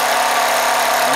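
A small Mamod single-cylinder steam engine on a model steam boat runs steadily close by, a loud continuous hissing chuff with a constant even texture and no pauses.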